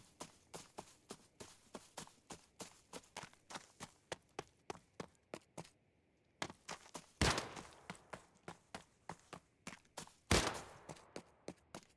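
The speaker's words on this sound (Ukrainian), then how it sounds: "В мотелі вже стріляють." Gunfire at a motel in the shooter game Arena Breakout Infinite rings out as a rapid, regular string of sharp shots, broken by a short pause and two louder, heavier bursts, all fairly distant.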